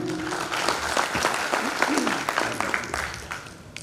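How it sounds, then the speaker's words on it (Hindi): Audience at a health and lifestyle seminar session breaks into applause, a moderate continuous patter of clapping with a few voices mixed in and a slight fade toward the end. "वाह, ताली बजनी चाहिए।"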